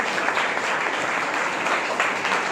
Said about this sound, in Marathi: चला टाळ्या आपण वाजत ठेवायच्या